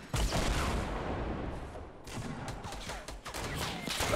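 Gunfire in the Fortnite Battle Royale video game: dense, rapid bursts of shots rattling continuously with a brief lull midway, close and loud, with no talking.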